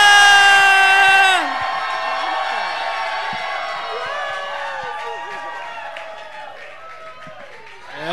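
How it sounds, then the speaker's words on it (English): A viewing-party audience cheers and whoops for a drag performer's entrance, starting with a loud piercing scream that settles into sustained crowd cheering, whistles and shouts, steady and loud, slowly fading toward the end. "Give it up for Jessica Wall!"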